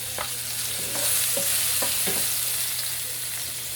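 Garlic sizzles steadily in hot oil in a frying pan after fried tofu, with a continuous hiss and a few soft stirring clicks, close and moderately loud, no talking.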